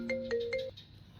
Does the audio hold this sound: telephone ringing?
yes